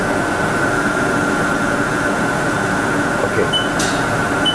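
Haas VF-2 CNC vertical mill, a 2008 machine, with its spindle running at 500 RPM, a steady mechanical hum and whine, loud and continuous over broad machine noise.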